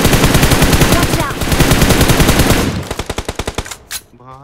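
Loud, close gunfire in the BGMI battle royale game: a rapid continuous burst that breaks into slower, separate shots before fading out at the end.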